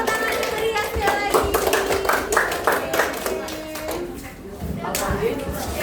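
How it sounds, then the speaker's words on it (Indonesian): Classroom applause rising in a steady patter of many hands clapping, loud and continuous for several seconds, with voices talking over it. "Kasih tepuk tangan yang meriah sekali"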